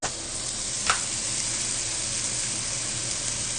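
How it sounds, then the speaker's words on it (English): Food sears in a hot pan with a loud, steady, close sizzling hiss that carries on unbroken, with one brief crackle near the start. "You want to let it get its color, get its sear."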